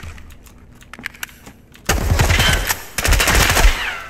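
Bursts of RPK machine gun fire in Escape From Tarkov, a quiet stretch of faint clicks giving way to loud, rapid sustained automatic volleys, with a short break between the two strings of shots.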